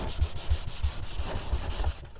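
Sandpaper worked back and forth over the wooden body of an LP-style guitar kit, a loud close rhythmic scraping rasp with steady strokes about three per second.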